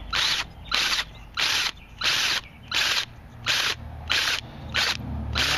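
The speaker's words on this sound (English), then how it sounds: "We're essentially drilling out the inner PVC pipe that was solvent welded in" A power drill boring out solvent-welded PVC pipe inside a sprinkler fitting or riser, whirring in eight steady bursts with short pauses between, loud and close.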